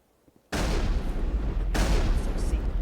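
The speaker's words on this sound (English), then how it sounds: "Those guns are so loud." Loud gunfire erupts in Mass Effect, with two sharp, heavy bursts about a second apart, each sustaining a dense, booming roar that fills the space.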